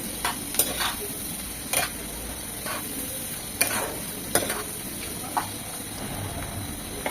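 Chopped onion, garlic and seven or eight dried chillies fry in mustard oil, giving a steady sizzling hiss broken by several sharp ticks and scrapes as a spatula stirs the pan.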